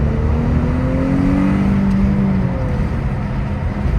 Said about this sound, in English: The V6 actually sounds pretty decent as long as you're inside the car with the windows up.